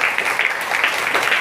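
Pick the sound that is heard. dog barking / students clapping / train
students clapping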